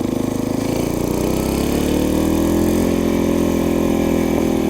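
A small Briggs 5HP single-cylinder engine on a chopper runs steadily at a loud, close, rough idle, with a rapid thumping pulse and heavy mechanical vibration throughout.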